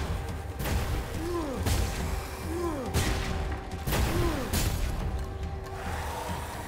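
Bombs go off in Curse of the Dead Gods, a few separate crashing blasts at roughly one-second intervals, each with a whooshing swept tone, loud against a busy game backdrop.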